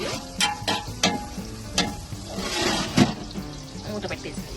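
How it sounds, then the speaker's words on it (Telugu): Onions and green chillies frying in a pan, stirred with a utensil that scrapes and taps several times against a steady sizzle, close by, with speech over it. "కలుపుతూనే ఉంది ట్రాన్స్పరెంట్ అయ్యే వరకు వేయించుకోవాలి"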